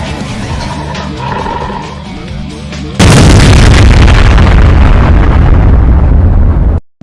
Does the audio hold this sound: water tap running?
no